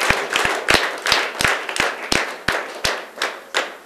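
A church congregation at a Sunday service in Rwanda claps together in a steady rhythm, sharp repeated claps roughly three per second, loud and close.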